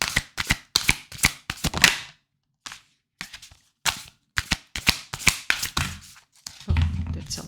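Tarot cards shuffled by hand in quick bursts of crisp slaps and riffles, separated by short pauses, close and fairly quiet.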